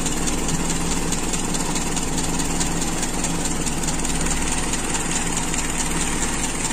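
A Toyota Kijang Super with a carbureted engine idles close by, a steady, even rumble that holds a constant level throughout with no talk.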